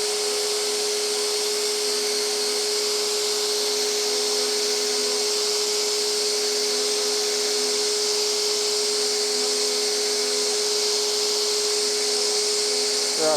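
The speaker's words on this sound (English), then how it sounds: "So first I'm going to do just kind of the surface grind" Steady, continuous high-pitched whine and hiss of a grinder surface grinding a dagger blade, running at constant loudness throughout with a faint underlying tone and no talk.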